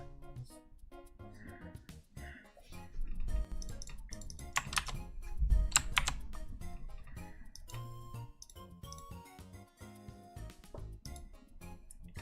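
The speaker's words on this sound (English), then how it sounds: "your keyboard is so loud" Computer keyboard typing heard up close as a busy stream of rapid clicking keystrokes, continuous across the stretch with no talking.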